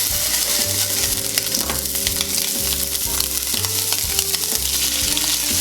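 Scallops sear in hot bacon fat in a pan over fairly high heat. The sizzle is loud, close and continuous, with sputtering crackles and some scraping of the pan, and there is no talk.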